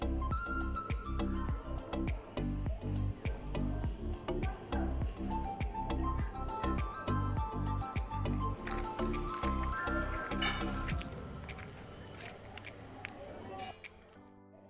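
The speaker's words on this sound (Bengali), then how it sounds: "আশা করি ঝিঝি পোকার ডাকটা তোমরা শুনতেই পেলে" Crickets at a resort in the evening keep up a loud, steady high-pitched trill through the whole stretch, with irregular knocks and background sounds underneath that fade out later.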